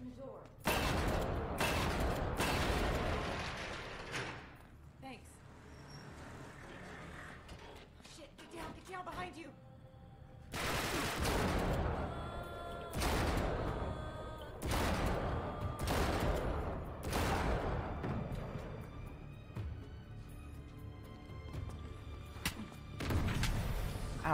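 Bursts of gunfire in Uncharted 3, a video game, with repeated loud shots and volleys coming in clusters across a busy in-game soundscape, broken by quieter stretches of mechanical noise and thuds.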